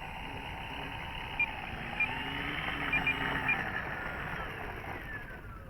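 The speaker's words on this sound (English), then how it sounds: "you can hear that motor as it winds down" The electric motor of a Dynam Waco RC plane winds down in flight, a steady whirring tone sliding slowly lower, heard at a moderate distance over outdoor wind noise with a few faint ticks, no speech.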